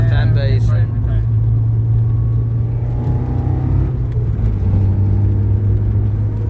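Toyota AE86 engine blipping during a heel-toe downshift, a steady low drone inside the car with a short rev rise and fall, heard under people talking.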